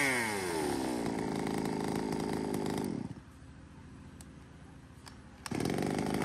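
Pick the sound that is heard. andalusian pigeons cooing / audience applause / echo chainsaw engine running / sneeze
echo chainsaw engine running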